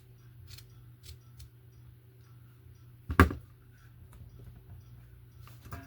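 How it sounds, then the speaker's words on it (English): A single crisp snip of scissors cutting through coarse, burlap-like fabric, close and fairly loud, standing out once amid a quiet room with faint handling noises. "I just pull as I'm cutting."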